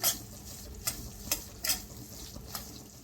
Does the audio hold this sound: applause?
no